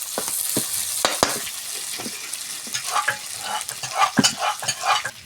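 Chopped onion, garlic and ginger hitting a hot pan for desi-style rajma, with a steady sizzle and frying hiss under repeated stirring and scraping strokes, close and fairly loud.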